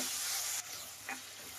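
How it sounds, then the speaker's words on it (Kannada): Lima beans stirred as they fry with turmeric in a pan over medium flame, giving a steady broadband sizzle that drops a little partway through, with one brief scrape of the spoon near the end and no talking. "ಅಲ್ಲಿವರೆಗೂ ಮೀಡಿಯಂ ಫ್ಲೇಮಲ್ಲೇ ಇಟ್ಟು ನಾವು ಫ್ರೈ ಮಾಡಬೇಕಾಗುತ್ತೆ ಕಾಳನ್ನ."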